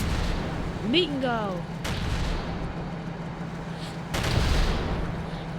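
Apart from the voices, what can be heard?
explosion and gunfire in World War Polygon video game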